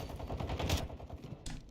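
Gunfire crackles in the video game Zombie Royale, with rapid bursts of automatic shots close up and overlapping, then a short pause before another burst.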